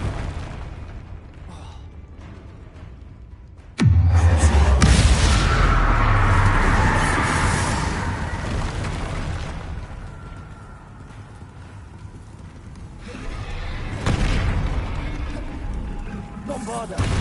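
Bombarda and Confringo explosion spells cast in the video game Hogwarts Legacy: a sudden loud booming blast with a heavy low rumble, fading into a long crackling tail, then a second weaker burst near the end.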